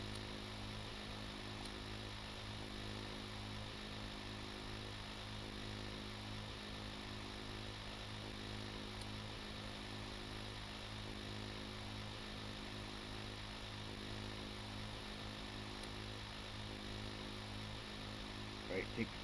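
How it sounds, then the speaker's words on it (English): Deep-water drill running underwater from a ship in the video game Stormworks, a steady low mechanical engine drone with faint rhythmic pulsing, continuous and fairly quiet throughout, with a voice talking over it. "Now we're drilling underwater. Deep underwater from our ship."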